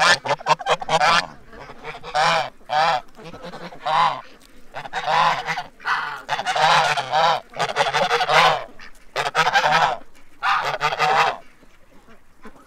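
Geese honking loudly right up close, a long run of repeated harsh honks in overlapping bursts with short gaps, several birds calling together.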